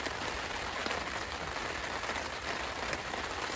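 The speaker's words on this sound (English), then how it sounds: "Enjoy the rain. A lot of rain right now." Heavy rain pouring down around a parked Tesla during mountain car camping, a dense steady hiss of drops with no break, fairly quiet and even, with no voices.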